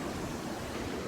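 Sea waves wash at the shore under an overcast sky, a steady dense rushing hiss with no distinct breaks.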